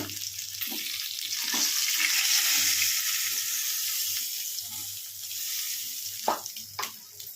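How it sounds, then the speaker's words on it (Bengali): Fish pieces fry one by one in hot oil, giving a steady close sizzle with occasional scraping and stirring clatters, no voices. "একে একে ভেজে নিয়ে তুলে ফেলছি।"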